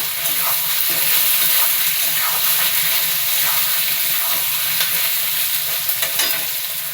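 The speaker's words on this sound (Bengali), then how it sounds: "এটাকে এবার কষাবো" Taro being sautéed in a pan with turmeric and salt makes a constant, loud hissing sizzle, with light stirring scrapes now and then.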